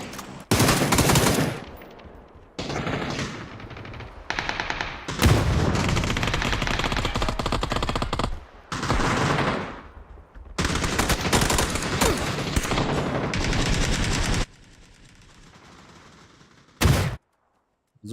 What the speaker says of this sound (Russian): Выстрел есть. Все звуки есть, Жека.